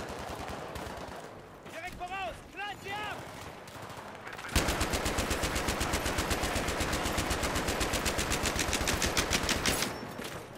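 Rapid bursts of Battlefield 3 machine-gun fire rattle on continuously after a few seconds of muffled talk and game noise, loud and steady until near the end.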